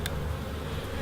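Honey bees in an opened beehive make a dense, steady buzz that fills the space close by, with a sharper wingbeat flaring once near the start.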